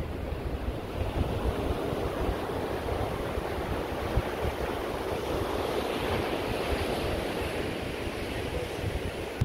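Ocean waves roll and break steadily against the seawall along the Sea Point promenade in Cape Town, a continuous broad wash of surf with some wind noise, no voices.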